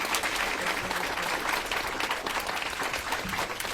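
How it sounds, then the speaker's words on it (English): Sustained applause from an audience honouring panelists at an evening panel discussion, steady dense clapping at moderate level with no talking over it. "can you please give another warm round of applause to our panelists tonight"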